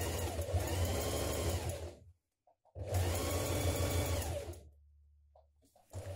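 A sewing machine stitches down the seam allowance on a dress pocket in two loud, steady bursts of roughly two seconds each, separated by a brief pause, then quieter motor hum and a short final whir.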